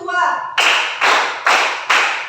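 Four sharp hand claps in a steady rhythm, loud and close, following a brief burst of children's voices at the start.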